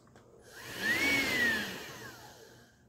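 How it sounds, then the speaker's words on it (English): A Hoover ONEPWR Evolve Pet Elite cordless upright vacuum runs close by, its motor whirring up to a steady high whine, then fading, with no talking. "I am now going to turn the vacuum on."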